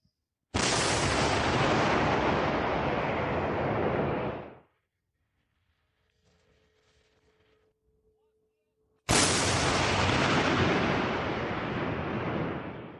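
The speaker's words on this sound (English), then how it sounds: "of a 155mm American M114A2 howitzer operated by the combat crew of the 71st Air Assault Brigade of the Ukrainian Armed Forces" A 155mm American M114A2 howitzer, crewed by Ukrainian soldiers, fires two loud, close blasts. Each has a long rumbling decay lasting several seconds, with near silence between the two shots.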